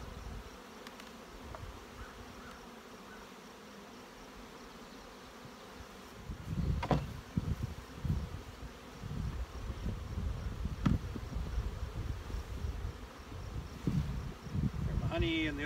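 Honey bees from an opened hive being split, with frames of brood and honey handled; a steady buzzing swarm hum grows louder and busier after a quiet start, with scattered close passes and handling knocks.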